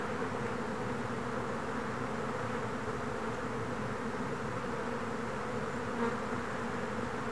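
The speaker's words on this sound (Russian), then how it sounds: "Какие же пчелы неутомимые." Steady, dense buzzing of many bees around an apiary, continuous and even, close and fairly loud with no voices.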